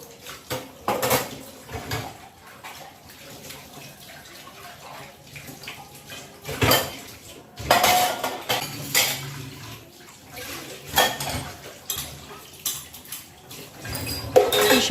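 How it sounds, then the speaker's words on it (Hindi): Dishes, pots and cutlery are washed in a home kitchen sink, with irregular clinks, clanks and scrapes over trickling water across the whole stretch and no talking. "शाम के भी इतने सारे बर्तन इकट्ठे हो जाते हैं ना, तो उसी टाइम वॉश करना पड़ता"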